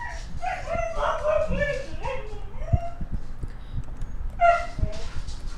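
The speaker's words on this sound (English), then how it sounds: "Mind the dogs barking." Dogs bark in short bursts with a few faint whimpers and yips, heard mostly under continuous talking from a live online sale broadcast.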